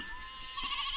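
A sheep bleats briefly in an Indian film scene where a herd of sheep is being driven, a single wavering nasal cry heard up close.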